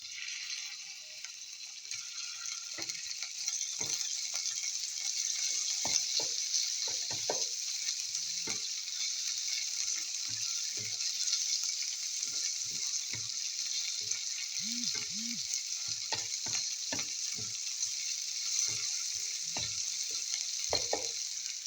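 Sweet gourd and chicken cubes sauté in a pan in a village kitchen, giving a steady loud sizzle with repeated scraping stirs throughout.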